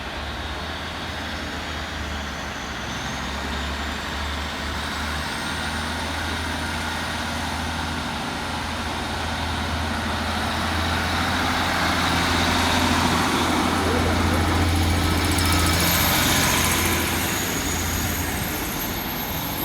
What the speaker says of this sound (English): Next train out to depart is 150229, with the 1524 Transport for Wales service of Bagoed through to Barry Island